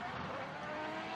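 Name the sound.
drift car engine screaming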